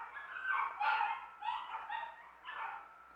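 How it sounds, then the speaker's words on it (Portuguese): Several dogs bark and yip outside in front, a rough cluster of overlapping barks in uneven bursts, heard at a distance and moderately loud. "Tem uma cachorrada aí na frente"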